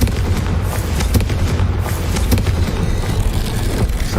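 A Confringo blasting spell in Hogwarts Legacy, with repeated loud booming blasts and sharp cracks over a dense rumble, several bursts spread across the moment.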